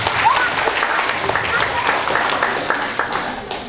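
An audience at a Bengali cultural evening in Montreal breaks into sustained applause, a dense wash of many hands clapping that holds steady throughout, with a voice faintly audible beneath it.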